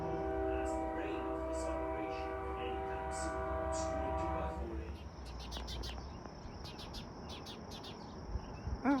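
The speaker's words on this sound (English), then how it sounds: "Ooh, I hear the train coming, rolling down the track." Train horn sounds in long sustained chords while the train rolls past, then fades to rumbling wheels and crickets chirping steadily at a distance.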